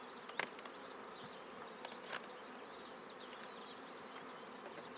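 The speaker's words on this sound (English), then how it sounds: "Bees are rather calm." Bees buzz steadily and softly around a hive with a homemade roof, a low continuous drone broken by a few louder, closer passes of individual bees.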